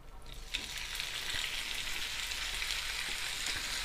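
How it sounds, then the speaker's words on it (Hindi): Small chicken pieces, about half a kilo, hiss and crackle in hot oil in a pan for a half-fry, a steady close sizzle that swells in after a quiet start and holds evenly. "हमारा चिकन उधर फ्राई होता है"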